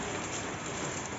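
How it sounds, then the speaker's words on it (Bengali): Heavy downpour falling outdoors, a dense steady hiss of rain on surfaces, moderately faint and continuous, with no voices. "আজকে এত বৃষ্টি হচ্ছে যে কি বলবো, জায়গাটা বুঝতে পারছো কিরকম মুষলধারে বৃষ্টি হচ্ছে।"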